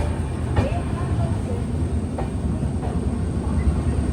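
The Vivek Express pulls away from a station platform with a steady low rumble of wheels and carriages, a few faint clicks and clanks over the top, and some voices in the background.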